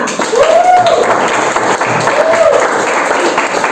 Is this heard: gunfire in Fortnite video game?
no